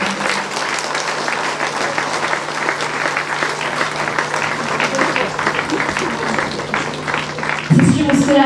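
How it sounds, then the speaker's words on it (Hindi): An audience at a golden jubilee event at a leprosy centre applauds steadily to welcome a sister onto the stage. The clapping is dense and continuous, with a low hum underneath, and swells louder at the end. "हम सिस्टर का तालियों के साथ मंच पर स्वागत करते हैं।"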